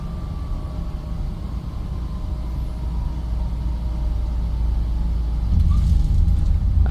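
Boeing 737 touching down in the Prepar3D flight simulator on a Ryanair flight to Lanzarote, a steady loud low engine and rolling rumble that swells near the end with a brief thump of contact.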